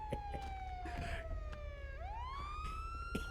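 A police car siren in a video game wails in a long descending then rising sweep, loud and clear with faint background noise and no talking.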